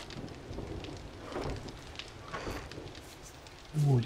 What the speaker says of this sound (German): Jetzt ist das Gewitter hier angekommen.